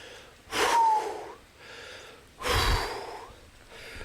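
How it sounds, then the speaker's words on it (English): Heavy breathing from a rider walking uphill during a singlespeed gravel race, two loud, rasping breaths about two seconds apart, close to the microphone, with softer exhales between. "I'm walking uphill and breathing like this."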